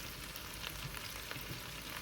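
Onions cook in a pan over medium heat, giving a soft, even, continuous sizzle with faint crackles throughout and no talking.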